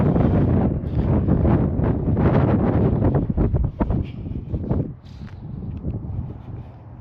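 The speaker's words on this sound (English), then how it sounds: "I was trying to hide from the wind" Strong gusty wind buffets the microphone beside a parked flatbed truck sheltered by buildings, loud rumbling bursts that ease off toward the end.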